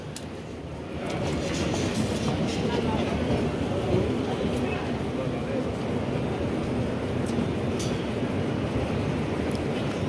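A continuous rumbling roar of a moving train in Italy, steady and close, with faint rattling and clatter throughout.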